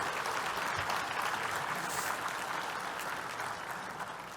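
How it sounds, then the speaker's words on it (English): Steady applause from an audience welcoming virtual guests at a climate-solutions benefit event, a dense, even clapping that holds through the clip and fades slightly at the end. "Can we give our virtual guests a round of applause to welcome them?"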